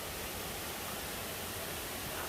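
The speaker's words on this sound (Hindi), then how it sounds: "यहाँ पर जो पानी इतने फोर्स से नीचे को गिर रहा था" Corbett Fall in Uttarakhand pours down with force, making a steady, dense roar of falling water that fills the whole stretch without a break, heard close by with no voices.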